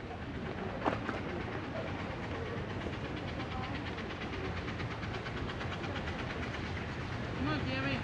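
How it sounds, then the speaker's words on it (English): Redwood Valley Railway miniature steam train in a park, heard as a steady rumbling, chugging wash of sound moving nearby, with faint bird calls and a brief whistle-like tone near the end. "You can hear it chugging."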